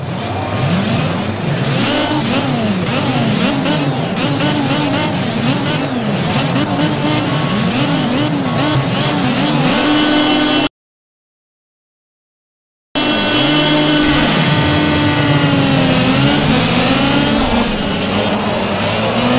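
A race car engine in the Project Cars racing game revs repeatedly in loud, rising and falling sweeps at the start of a race. It cuts out abruptly for a moment, then returns with more revving and shifting pitch.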